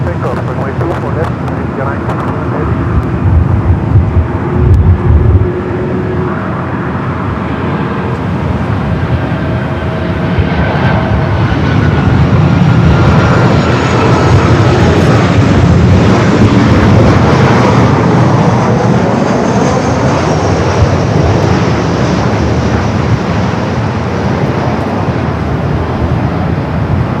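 An airliner taking off from runway 24 left at Los Angeles International Airport, a steady broad jet roar building and holding loud throughout, with faint voices underneath.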